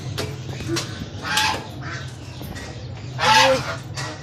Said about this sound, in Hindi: डक्स शोर कर रही है ना